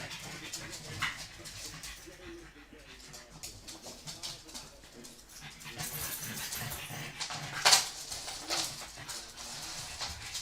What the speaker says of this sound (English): And the dogs are back.